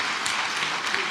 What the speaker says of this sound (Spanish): Yo le daría un fuerte aplauso ahí.